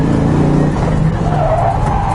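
A Nissan S13 fitted with a stock LS1 V8 drifts under heavy throttle. The engine roars loud and close, and a sustained tire squeal rides over it without a break.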